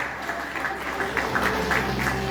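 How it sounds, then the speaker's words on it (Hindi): Applause from the crowd at a World Peace of United Nations award function in India, a moderate steady patter of many hands, somewhat distant and even through the short stretch. "एक बार जोरदार तालियां हो जाएं."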